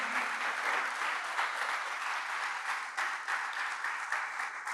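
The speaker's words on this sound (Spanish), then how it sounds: "si va a dar el aplauso de lo fuerte porque parece que es un aplauso femenino." Loud, sustained applause from a crowd at a sermon-style talk, with dense steady clapping and no pauses, filling the space close by.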